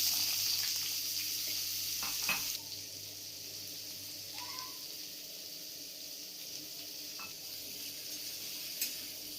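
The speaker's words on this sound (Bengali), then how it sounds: "এর মধ্যে আমি পাঁচফোড়ন দিয়ে দিচ্ছি, আর আগে থেকে কেটে ধুয়ে রাখা লাউটা আমি এখন দিয়ে দিচ্ছি।" Bottle gourd goes into hot oil with panch phoron and fries with a loud, hissing sizzle that drops to a quieter, steady crackle, broken by a couple of utensil knocks.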